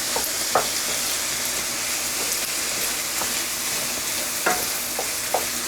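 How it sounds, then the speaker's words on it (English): Flour is stirred into browned cottage pie mince in a hot pan, a constant close sizzle broken by occasional spoon scrapes and taps against the pan. "I'm going to add 2 tablespoons of flour to thicken that up"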